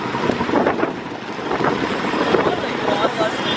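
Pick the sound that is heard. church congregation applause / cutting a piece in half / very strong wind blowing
very strong wind blowing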